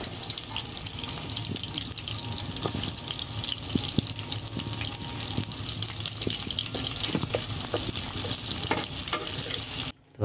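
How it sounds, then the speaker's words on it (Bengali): Onions and vegetables sizzle and fry in a hot wok over a wood-fired stove, a steady crackling hiss with intermittent stirring clinks and scrapes, close and continuous throughout. "তো এখন আমরা গরম কড়াইতে এগুলো দিয়ে দিব"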